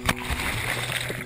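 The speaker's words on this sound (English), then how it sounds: "There's no motor, all you hear is the jungle, the birds, and that, and just that splash." A canoe paddle splashes through the Riri River on Santo, Vanuatu, a quick splatter near the start followed by gentle sloshing and flowing water.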